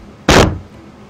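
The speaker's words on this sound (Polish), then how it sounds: "Zamknę drzwi." A vehicle door in Farming Simulator 2015 shuts with a single sharp, loud thump that fades quickly into a low steady background hum.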